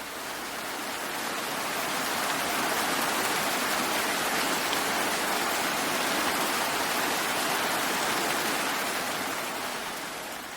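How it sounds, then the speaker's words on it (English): Loud, heavy rain pours in a steady, dense hiss throughout, swelling slightly after the start and easing a little at the end, with no voices. "And some rain can be very loud."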